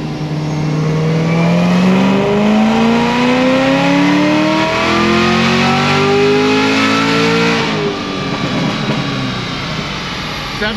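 A high-mileage car engine pulls hard on a dyno, its loud, rising roar climbing steadily in pitch for about eight seconds before dropping off as the throttle lifts, with no talk over it.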